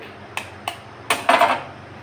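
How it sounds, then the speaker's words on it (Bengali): Two eggs are handled in a kitchen bowl before beating: a few sharp clinks against the bowl, then a louder crack and a brief clatter, close up in an otherwise quiet room. "এখন আমি যেটা করব সেটা হচ্ছে এই যে বাটিটাতে দুটো ডিম ফেটিয়ে নেবো"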